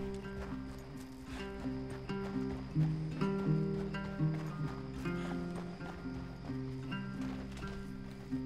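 A horse galloping in Red Dead Redemption 2, steady rhythmic hoofbeats clip-clopping close by under a sustained musical score, with occasional speech.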